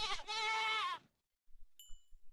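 A goat in a video game lets out a single loud, close bleat lasting about a second, followed by quiet and a few faint, scattered game sounds.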